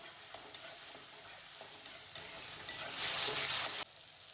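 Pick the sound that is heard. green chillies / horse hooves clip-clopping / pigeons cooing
green chillies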